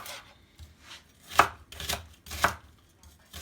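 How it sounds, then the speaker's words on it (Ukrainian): Two small onions being chopped with a knife on a cutting board, a handful of crisp, irregular thuds spaced about half a second apart, close and alone without any talk. "І нарізаємо її."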